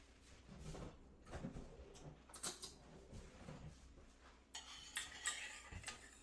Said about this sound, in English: Just going to stir on my sauce